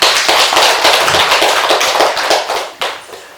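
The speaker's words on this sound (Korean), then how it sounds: "박수 한번 쳐도 될까요?" An audience at a Buddhist meditation lecture claps together, a dense, sustained burst of many hands clapping at close range with no talk over it, tapering slightly and then swelling again near the end.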